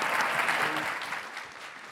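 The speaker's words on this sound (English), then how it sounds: "can we give a round of applause?" Audience applause for the speakers at the close of a talk on alcohol use and violence against women, a brief dense patter of many hands, moderately loud and gradually easing off, with a faint voice under it.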